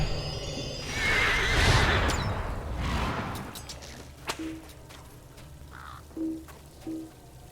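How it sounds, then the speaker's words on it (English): In a video game, a horse whinnies loudly once, its cry trailing off over a few seconds. A few sharp knocks and thuds follow at intervals. "there's a random horse who's made his home among the spirits of the dead"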